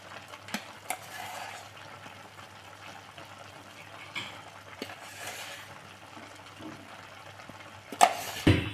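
Aviyal, a vegetable curry with ground coconut paste mixed in, is stirred in a pan, giving soft irregular scraping and clinks against a quiet background, with a louder clatter near the end.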